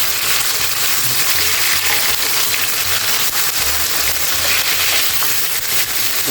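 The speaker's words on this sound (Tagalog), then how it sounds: "ginisa na yung ating bawang at ang sibuyas. At isusunod natin yung ating siniwang kamatis." Garlic, onion and shredded tomato sautéing in a pan, a loud continuous sizzle and crackle with occasional low stirring scrapes, no talking.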